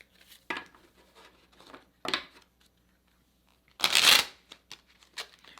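Oracle cards being shuffled by hand in short rustling bursts, with one louder, longer riffle near the middle and quieter flicks around it, close and alone with no talking.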